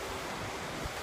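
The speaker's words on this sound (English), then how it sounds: "It's pretty windy" Wind blows at the Lake Michigan shore on North Manitou Island as a loud, steady broadband rush that buffets the microphone, with no voices.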